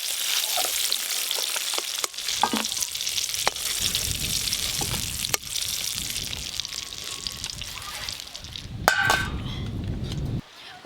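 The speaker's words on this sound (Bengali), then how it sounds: "এই যে বেগুনগুলো বেশ ভালো করে ভাজা ভাজা হয়ে গেছে" Eggplant slices frying in a pan of hot oil, with a continuous loud sizzle broken by a few sharp clangs and scrapes of a utensil, and a quiet voice now and then.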